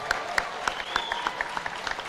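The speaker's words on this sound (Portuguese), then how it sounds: "Uma salva de palmas ao prefeito João Dória." A small crowd claps steadily, a brief burst of applause with distinct individual claps, moderately close.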